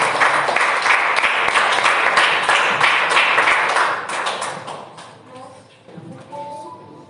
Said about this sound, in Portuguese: E as palmas ao Senhor Jesus